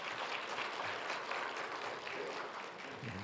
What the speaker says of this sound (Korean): 감사의 박수 부탁드립니다